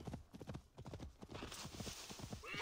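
Rapid clip-clop of horse hooves trotting in the video game Assassin's Creed Valhalla, close and rhythmic, over a rushing wind-like background that grows louder toward the end.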